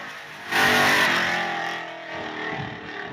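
Race car with both mufflers missing revs loudly at a racetrack, a raw unmuffled engine swelling sharply then holding a rough, fluctuating roar close by with no talk.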